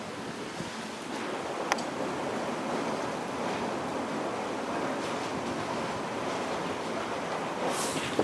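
Heavy wind rushing past a microphone on a fast-moving train near the Krishna river, a steady roaring broadband buffet with brief bumps, loud and continuous, no talk.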